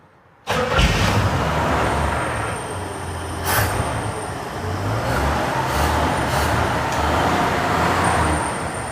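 A 1971 Chevrolet C10 shortbed pickup with an inline six engine runs steadily after a sharp start, a low rumbling idle and drivetrain noise filling the clip without talk as the old truck prepares to move off.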